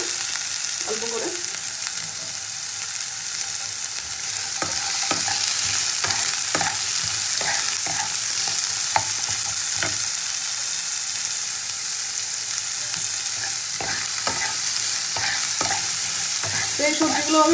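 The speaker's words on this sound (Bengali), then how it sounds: "আর দিয়ে দেবো আমি পেঁয়াজ কুচিটা, দিয়ে একসাথে ভেজে দেবো।" Winter vegetables with potato, carrot and chopped onion frying together in a pan, a continuous loud hiss with scattered scraping stirs, near and steady throughout, with no speech.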